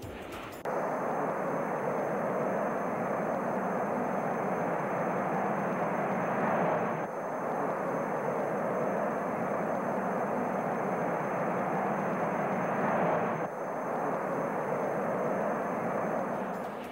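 Blue Angels jet aircraft flying in formation, a steady loud roar that swells and fades in long passes with no voices.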